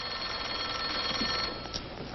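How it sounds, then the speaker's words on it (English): An old telephone bell rings in a 1950s sitcom scene, a continuous bright metallic jangle that stays steady and loud for about two seconds. "Hey, your phone's ringing, Margie, but tell him to wait."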